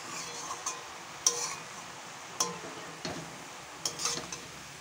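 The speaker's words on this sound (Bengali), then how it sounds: "নেড়ে দেবো।" Spinach (red amaranth greens) being stirred in a pan with salt: soft scraping and a few faint metallic clinks from the utensil over a quiet, steady hiss of cooking.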